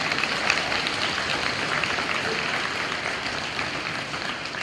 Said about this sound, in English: So one more round of applause for that.